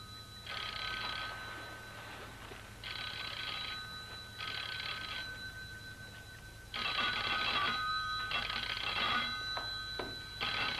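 An old-fashioned telephone bell rings in repeated bursts, each trill lasting about a second with short pauses between, loud and close over a low background hum, with no voices.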